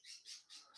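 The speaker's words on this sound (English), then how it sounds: "That's the birds chirp here." Small birds call outdoors in a quick series of four faint, high squawking chirps, with no talking.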